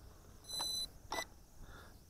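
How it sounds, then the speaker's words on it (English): A Bayangtoys X16 GPS drone with its battery plugged in gives two short electronic beeps in quick succession, faint and close, against a quiet background hiss. "hear that beep? That means we're turned off."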